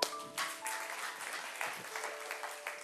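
A church congregation bursts into applause during a sermon, steady mid-distance clapping with a few faint tonal sounds and voices beneath it.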